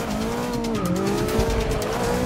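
A 600-horsepower race car weighing about 1,800 pounds in Forza Motorsport 6 drives hard, its engine droning steadily with pitch shifts and tires squealing throughout, loud and continuous with no talking.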